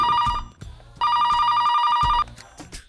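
A telephone rings in an office setting, two bursts of electronic trilling separated by a pause, loud and close, with brief background movement and faint voices between the rings.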